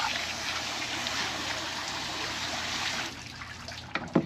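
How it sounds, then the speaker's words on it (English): Running water rinsing a mutton snapper, a steady close rush of the stream over the fish that thins out near the end with a few splashy knocks. "First thing I like to do is give it a good rinse."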